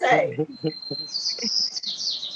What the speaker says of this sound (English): everybody knows about the bird